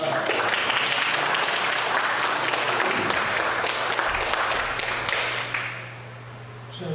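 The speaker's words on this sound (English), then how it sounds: "That applause was for Srila Prabhupada." Sustained audience applause for Srila Prabhupada at a Sunday feast program, dense and steady clapping that fades toward the end, with some voices mixed in.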